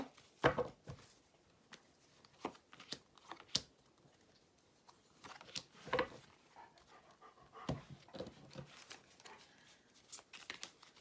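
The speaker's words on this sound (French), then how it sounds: "j'ai mon chien qui est rentré, c'est lui que vous entendez là" A dog that has just come indoors pants in quick, uneven bursts close by, with short breathy puffs and a few scrapes or clicks scattered across a quiet room.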